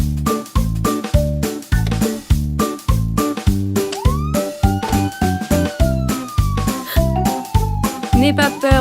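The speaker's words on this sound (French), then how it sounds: "La sirène indique aux malfaiteurs que je suis là." Cartoon police car siren in a children's animated song, sounding over a bouncy rhythmic musical beat with repeated pulsing notes and a rising and falling wail, moderately loud.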